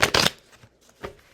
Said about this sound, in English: so let's do a little shuffling.